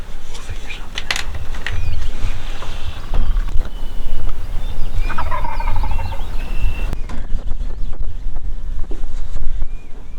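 A wild turkey gobbles in a Missouri field while approaching a decoy, heard from a blind as a few rattling calls under steady wind and background rumble; no clear talk.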